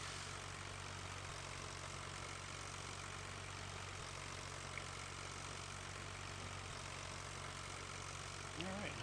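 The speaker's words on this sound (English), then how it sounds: "keep going, tractor." Tractor engine in the Farming Simulator 15 video game, a faint, steady low idling drone that holds evenly throughout with no change in pitch.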